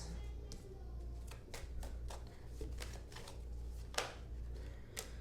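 Tarot cards are shuffled and drawn in quick, close flicks and snaps over a low steady hum, with a few sharper slaps as cards are laid down.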